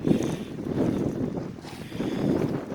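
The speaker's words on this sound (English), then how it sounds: "So I was saying it was windy." Wind rushing steadily over a small boat with a 4hp motor on open water, a low constant buffeting roar against the microphone with gentle swells in strength.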